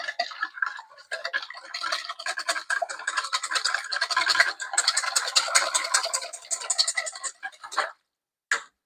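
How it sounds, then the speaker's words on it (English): A whisk clatters fast and steadily against a bowl as soured milk batter ingredients are combined, a close, busy ticking rhythm that stops abruptly before a short final scrape. "Now let's whisk these ingredients together."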